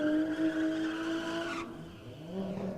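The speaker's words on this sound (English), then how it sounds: "I really want to see this E30 get like a really nice sort of first to second gear change" A BMW E30 race car on a drag strip, engine revving hard in a rising howl, then a sudden drop at the gear change before the note climbs again.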